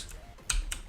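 Two sharp key clicks from a computer keyboard, close and distinct, about a quarter second apart, with faint low hum between them and no voices.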